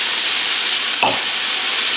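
Mixed vegetables drop into a hot pan of burger mix, with a constant close frying hiss broken by one short sharp sizzle burst as they land.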